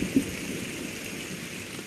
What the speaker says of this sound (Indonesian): Dah hujan! Cepat!